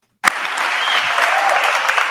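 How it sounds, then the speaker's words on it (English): Wedding guests break into applause during a best man speech; clapping starts abruptly after silence and continues as a loud, steady crowd ovation. "Round of applause for everyone"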